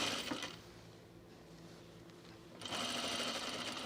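A sewing machine runs steadily along a blazer seam, stitching loudly at the start, pausing in a quieter stretch with faint handling noise, then starting up again in a second strong run near the end.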